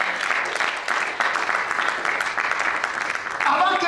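A church congregation breaks into steady applause and cheering in praise, a dense, continuous clapping texture that holds throughout, with voices calling out over it.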